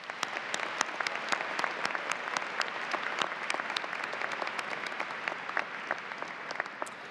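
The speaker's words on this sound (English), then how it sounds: "please let's give them a round of applause." A large crowd applauds at the Siena College 2019 commencement ceremony, with dense, sustained clapping of even loudness throughout.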